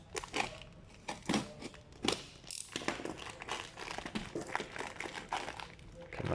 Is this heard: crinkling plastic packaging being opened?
yes